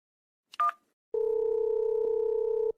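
A telephone placed to call the police department gives a short electronic beep, falls silent for a moment, then holds a steady, clear dial tone for over a second and a half.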